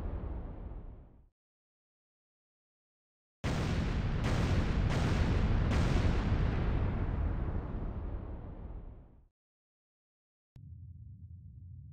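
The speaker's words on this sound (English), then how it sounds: "Loud explosion on the bearing of Sierra 1-4." A loud explosion in a multiplayer submarine warfare game, heard on a sonar contact's bearing: a heavy booming blast with several sharp cracks at its start, rumbling and slowly fading for several seconds before a low hum returns.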